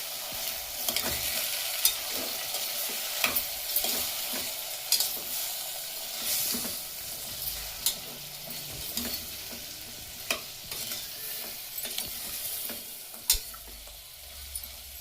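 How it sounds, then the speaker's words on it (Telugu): Masala is stir-fried in a pan while cooking a cabbage and potato curry, producing a continuous close sizzle punctuated by regular scraping strokes of the spoon, with no talking. "అన్నింటినీ ఒకసారి కలుపుకోవాలి."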